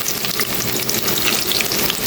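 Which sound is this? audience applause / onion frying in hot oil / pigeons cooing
onion frying in hot oil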